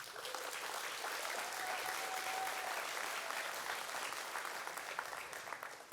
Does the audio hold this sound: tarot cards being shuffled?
no